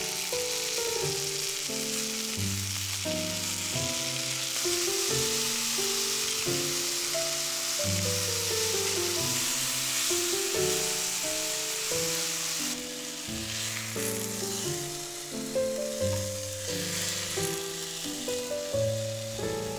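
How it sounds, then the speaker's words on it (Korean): Sliced onions and button mushrooms fry in a hot pan with olive oil and ghee, a steady close sizzle continuing throughout, with background music playing underneath. "달군 팬에 올리고 슬라이스한 양파를 먼저 볶아줘요"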